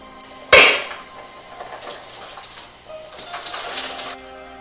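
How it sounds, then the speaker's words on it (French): Carrots and a turnip drop into a pot of hot water with one sharp clatter, followed by quieter splashing and scraping of cookware in a kitchen. "je vais mettre mes carottes et mon navet à bouillir dans l'eau chaude"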